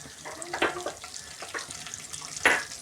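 Curry leaves hit hot oil in a pan for a stuffed brinjal tamarind curry, giving a close crackling sizzle with a few sharp spattering bursts, the loudest near the end, and no talk.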